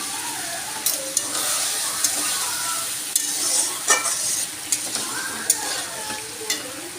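Egg curry in a home kitchen pan sizzling steadily after water is poured in, a continuous hissing fry with scattered pops and crackles from the hot oil, close by and unaccompanied by talk.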